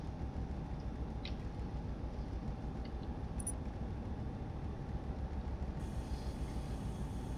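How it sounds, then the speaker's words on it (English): A simulated train runs past at East Croydon station in Train Sim 2020, a steady low rumble and rolling clatter, fairly faint and continuous with no voices. "And on the right is a train from Milton Keynes."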